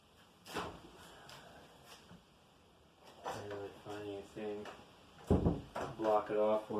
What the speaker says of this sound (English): I'm going to come over here and crack this door.